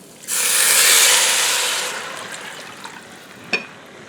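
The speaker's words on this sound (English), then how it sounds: "Now we're going to add our water" Water poured into a hot pan of Mexican-style rice, opening with a loud rushing hiss that steadily fades, followed by a few small clinks near the end, heard up close with no speech.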